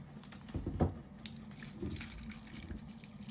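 Water pouring and trickling into a pan, a soft splashing flow with a couple of louder gushes, heard close and alone.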